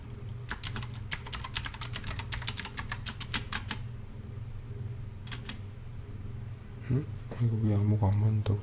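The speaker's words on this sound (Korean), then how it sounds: "키보드를 누르고 있었네." Computer keyboard keys are pressed in quick bursts of sharp clicks over a low fan hum, then pause before a person begins talking near the end.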